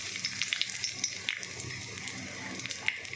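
Cumin seeds and dried red chillies frying in hot oil for a Bengali dish, a steady crackling sizzle with scattered sharp pops, close and moderately loud, with no talking.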